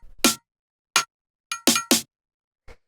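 Bell and snare percussion samples from a deep minimal house track play as a few sharp, isolated metallic hits with silence between them, bright and clean with quick decays.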